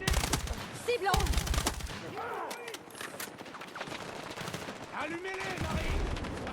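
Video game gunfire from Battlefield 6, rapid automatic bursts and rattling shots in a chaotic combat scene, loud and dense with radio-style voices and other battle sounds mixed in.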